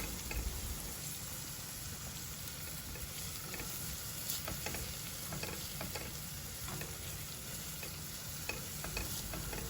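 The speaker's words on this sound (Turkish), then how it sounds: "Güzelce soğanımızı salçamızla karıştıralım." Chopped onions fry in a pan with tomato paste and pepper paste for spinach stem soup, giving a steady soft sizzle with occasional scraping taps as a spoon stirs them.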